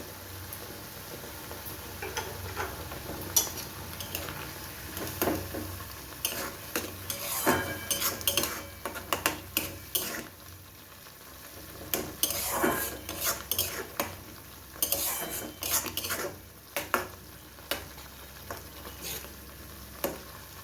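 Tomato for chutney, seasoned with salt and turmeric, is stirred and sautéed in a pan. A spatula scrapes and clinks irregularly over a soft background sizzle, with clusters of sharp metallic taps.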